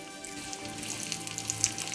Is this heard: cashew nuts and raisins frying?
yes